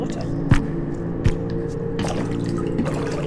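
Water drips in the video game How Fish Is Made: a few separate, close drips spaced apart over a steady low ambient hum, with no talking.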